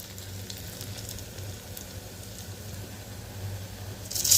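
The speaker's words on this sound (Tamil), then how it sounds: "பச்சை மிளகா வந்து நல்லா எண்ணெயிலே வதங்கட்டும்." Green chilies sauté in hot oil for beetroot rice, a soft steady sizzle with a low hum underneath and a brief louder clatter at the very end.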